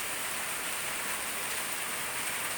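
Heavy rain begins falling in Paksong, Laos, a dense, steady hiss of downpour that holds evenly throughout with no voices.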